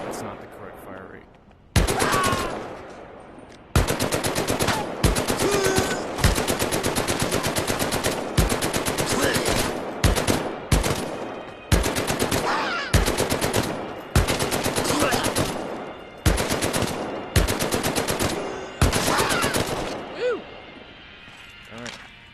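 Rapid machine-gun bursts from a World War II–era weapon in the VR shooter Medal of Honor: Above and Beyond, loud and close, firing in repeated long strings separated by short pauses across the whole stretch, with occasional voices underneath.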